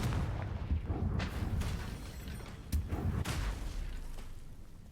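A Confringo fire spell blast in the Hogwarts Legacy video game, heard as a rumbling burst with a few sharp booming impacts near the middle and a steady low roar underneath throughout.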